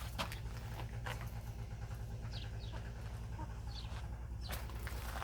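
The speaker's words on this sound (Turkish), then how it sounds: "Şöyle iki tane de anacımız burada var." Broody hens of the Rahibe fizan breed cluck softly over a constant low background hum, with a few brief higher calls scattered through.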